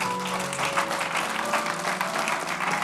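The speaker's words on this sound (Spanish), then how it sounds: "Denle un aplauso al Señor porque Él es bueno." A church congregation applauds with steady, dense clapping throughout, loud and close, while faint voices and a sustained tone linger underneath.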